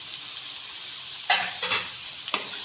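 Ground ginger, garlic and green chili paste hits hot oil with frying cumin potatoes, giving a steady bright sizzle that flares into louder crackling bursts as it goes in and is stirred, with no talk.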